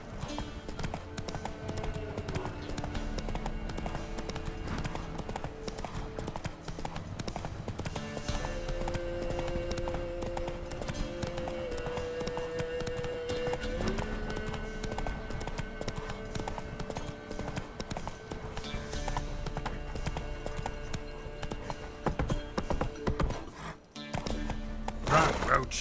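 A horse gallops in the video game The Witcher 3, with steady rapid hoofbeats under a constant game soundscape of music and ambience, and a voice speaks briefly.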